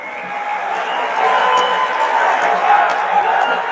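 At a state-level Rajiv Gandhi rural Olympics closing ceremony, a large crowd produces a steady, sustained wash of applause and cheering that stays loud throughout.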